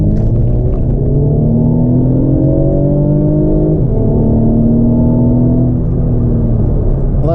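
Mercedes-Benz C300 4MATIC all-wheel-drive car under hard acceleration, a loud, close engine drone rising in pitch through one gear, a brief dip at a shift, then climbing again.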